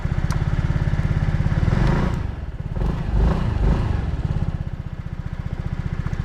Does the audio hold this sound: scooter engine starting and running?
yes